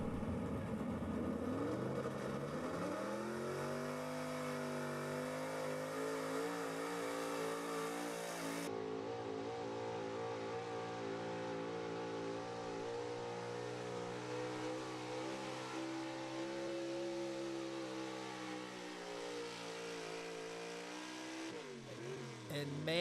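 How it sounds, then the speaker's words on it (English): A 1979 GMC pulling truck roars down a tractor pull track, its engine screaming loud and rising in pitch over a long run, then cutting abruptly to a lower drone before revving again at the end. "that truck was screaming down the track, spun out super hard at the end"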